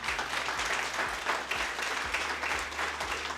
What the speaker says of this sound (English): give a round of applause for James Wiley, our videographer team